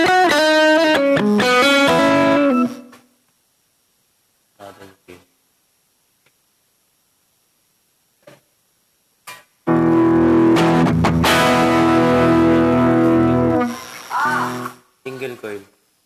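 An electric guitar runs through a Caline C300 pedal set to high-gain distortion. Two loud bursts of sustained, saturated chords and notes ring out, separated by a long near-silent gap with a few faint picks and taps.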